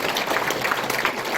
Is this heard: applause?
yes